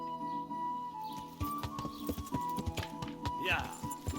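Horse hooves clip-clopping in the medieval video game Kingdom Come: Deliverance, a rhythmic series of hoof strikes under game music and ambient tones, with a brief whinny-like sound near the end.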